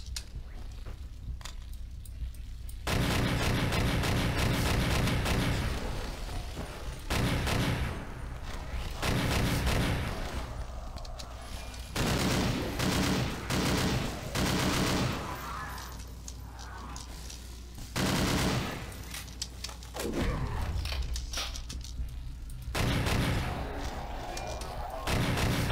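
Zombie-shooting gunfire in the first-person shooter SMOD Outbreak, with repeated loud bursts and single heavy shots separated by quieter gaps, plus crashes and background game noise across the stretch.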